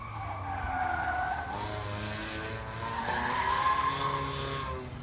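A Hyundai with an odd aftermarket muffler runs an autocross course, its engine droning and tires squealing steadily through turns, loud and continuous throughout.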